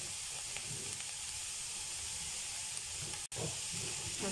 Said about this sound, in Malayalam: ഇനി ഇതിലോട്ടേക്ക് ഉള്ളിയിട്ട് കൊടുക്കാം, ഇളക്കി കൊടുക്കാം.